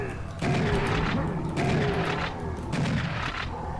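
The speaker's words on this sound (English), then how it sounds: "just shotgun these beheadeds" A shotgun blasting Beheaded enemies in Serious Sam, with three loud booming shots spaced about a second apart over a busy background of game noise.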